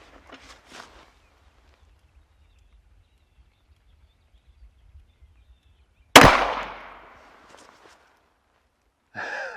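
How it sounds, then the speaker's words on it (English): A single loud, sharp rifle shot fired to check an MMC rear sight, cracking suddenly after a quiet stretch and ringing out into a decaying echo, with faint breathing and movement before it. "We'll see when I fire this shot."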